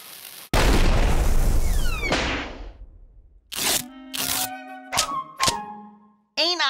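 A cartoon explosion of Marvin the Martian's explosive storage unit, one loud booming blast that rumbles and decays over about two seconds, followed by a string of zany cartoon sound effects and short bursts.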